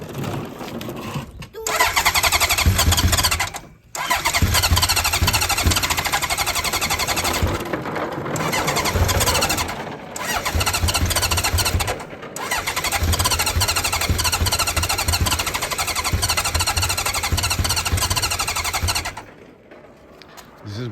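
A Honda CB900F Bol d'Or motorcycle with FCR33 flat-slide carburetors and no choke is cold started, cranking and catching into rough loud revving, with several cut-outs and restarts and someone talking briefly.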